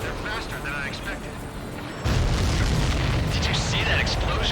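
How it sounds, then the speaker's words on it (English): A supply ship explodes in the Ace Combat 7 flight game, a sudden loud boom at the midpoint that swells into a sustained roar over jet engine noise, with background voices. "Did you see that explosion? Looks like that's one of them down."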